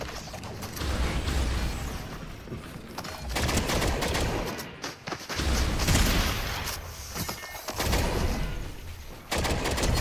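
Dense, sustained gunfire from Fortnite, with loud rapid bursts and mechanical clatter filling most of the stretch and brief gaps between volleys.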